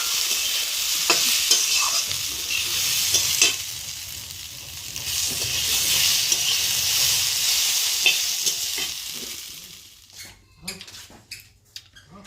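Cauliflower stalks and radish sizzle and fry in a pan for a Bengali chorchori, a steady loud hiss with scattered stirring scrapes and clinks, easing off near the end into a few separate utensil taps.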